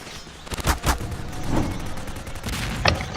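Several sharp gunshots crack out in a scattered burst, a couple close together early on, then isolated shots later against a noisy background.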